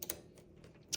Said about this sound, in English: So put it firmly on red or black, and now you can type again.